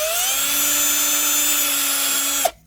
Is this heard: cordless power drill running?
yes